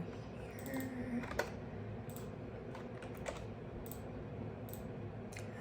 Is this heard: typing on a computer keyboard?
yes